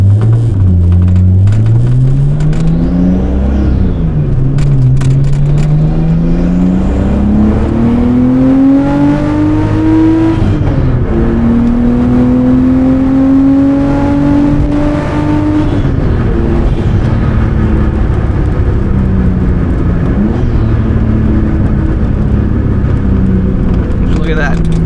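An RB20-powered R32 Skyline GTS-t with a straight pipe revs through a pull, loud and close from inside the car, engine pitch climbing and dropping across gear changes, with voices talking over it.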